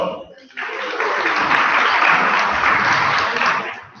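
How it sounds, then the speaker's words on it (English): A crowd at a student common room meeting breaks into applause after a short pause, the clapping sustained and fairly loud for a few seconds before fading. "Round of applause for Josh."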